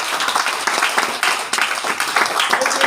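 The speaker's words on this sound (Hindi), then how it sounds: "हम चाहेंगे एक जोरदार तालियां उनके लिए" An audience at a gathering in Patna claps loudly and energetically in a brief, dense burst of applause.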